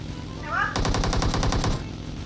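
Rapid automatic gunfire from the mobile battle royale game PUBG Mobile bursts out loud after a short rising tone, a steady string of about a dozen shots lasting roughly a second before stopping.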